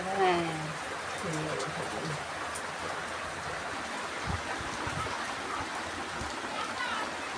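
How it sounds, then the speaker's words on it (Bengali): Steady rain pours down outdoors, a broad continuous hiss, with a voice speaking briefly at the start. "বৃষ্টি হচ্ছে আমাদের এখানে, এতদিন পরে বৃষ্টি।"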